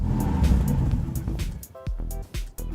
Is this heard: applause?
no